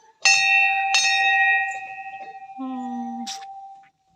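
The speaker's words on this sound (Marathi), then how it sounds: "घंटा वाजवा" A temple bell at a Shiva shrine is struck twice close by, leaving a long ringing tone that slowly fades, with a brief lower hum and a sharp clink near the end.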